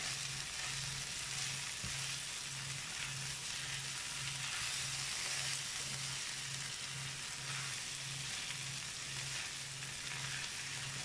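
A vegetarian rice dish sizzles and crackles steadily in a frying pan as it is stirred, a continuous hiss with faint scraping, no voices.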